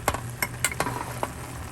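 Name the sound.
fish adobo (galunggong) boiling and sizzling in pan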